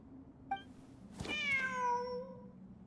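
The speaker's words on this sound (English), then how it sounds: "Wait, there it is! The cat!" Cat meowing in Genshin Impact, one short faint chirp followed by a longer clear, drawn-out meow that slowly falls away, over quiet ambient background.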